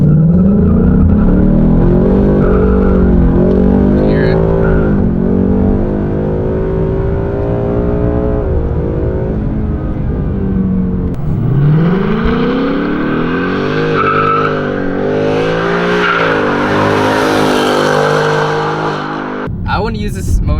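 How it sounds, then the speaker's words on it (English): Ford Mustang GT launched from a full stop in drag strip mode, engine revving hard through rising gear pulls with tires squealing and skidding, loud and close, with someone speaking briefly over it. "we're gonna floor it in drag strip mode real quick"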